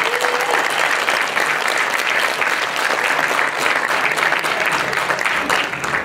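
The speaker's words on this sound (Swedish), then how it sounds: "Får vi lite applåder från här nu?" Loud, continuous audience applause fills a hall at a classic bodybuilding competition in Sweden, steady and unbroken throughout with a faint crowd murmur beneath it.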